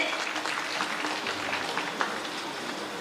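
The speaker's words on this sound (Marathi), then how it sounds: "ह्या सगळ्या कलाकारांना एकदा प्रोत्साहनपर टाळ्या होऊन जाऊ दे" An audience in Karad claps steadily for performers for about three seconds, a dense and even patter of many hands with no voices standing out.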